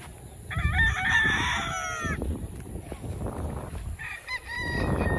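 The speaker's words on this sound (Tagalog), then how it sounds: "Grabe ang daming manok." Many chickens on a farm: one rooster crows loudly, then another crows a few seconds later, with scattered clucking and a busy background of rustling and flock noise between them.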